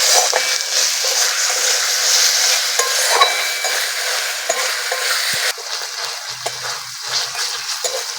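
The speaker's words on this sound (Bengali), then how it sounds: "কাঁচা লঙ্কা আর টমেটোটা ভালো করে কষিয়ে নেব।" Chopped tomatoes and slit green chillies sautéing in a pan, a steady close sizzle with scraping stirs throughout and a slight drop in intensity partway through, no talking.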